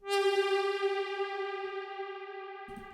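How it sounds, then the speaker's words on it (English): A single sustained dubstep synth note drenched in heavy Valhalla Supermassive reverb rings out alone, loud and harmonically rich, slowly decaying into a long washy tail before cutting off. "I'm gonna absolutely fucking drench it in reverb."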